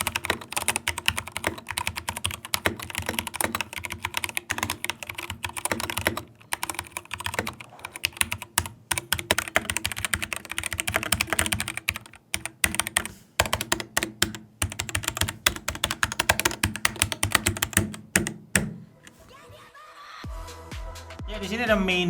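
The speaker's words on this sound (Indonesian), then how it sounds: "selanjutnya kita dengar kenikmatan switch dari press play ini" Rapid typing on a Voyager68 PressPlay Retro Edition keyboard, a dense stream of crisp key clicks and clacks close up, bursts with brief pauses, ending with a few softer taps.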